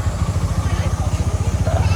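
A motorcycle engine idles with a steady, low, rhythmic thumping that pulses evenly and continuously throughout.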